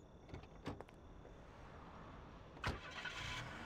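In the Mafia video game, a car door thuds, then an engine cranks and starts with a short burst, heard fairly quietly against a hushed background.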